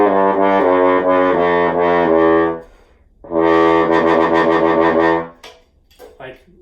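Low notes from a New York Bach bass trumpet, two long sustained phrases separated by a brief pause, loud and close, followed by a few short blips.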